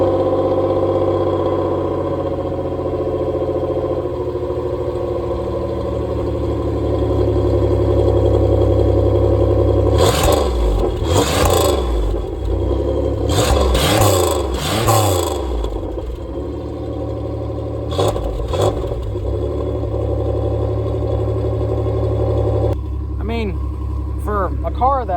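A 1991 Chevrolet Cavalier Z24 with a V6 runs at a steady rumbling idle, then rises in several sharp revs in the middle before settling back. It is close and loud throughout, with voices in the background.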